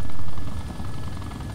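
A helicopter in DayZ Overpoch, its rotor and turbine droning loud and close in a continuous pulsing wash that swells briefly at the start, with no voices over it.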